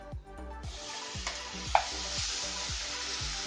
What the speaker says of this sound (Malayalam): ഇനി ഇതിനകത്തേക്ക് ഞാൻ നാരങ്ങ ഇട്ട് കൊടുക്കുന്നു.